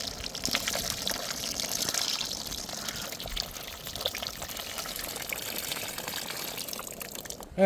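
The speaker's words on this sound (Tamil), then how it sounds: "இப்போ வந்து புளி கரைச்சலாம் சேர்த்துக்க போகிறேண்ணே" Tamarind water poured into a simmering fish curry in a pot, a continuous soft liquid pour and trickle heard close up, fairly quiet, ending with a brief louder knock.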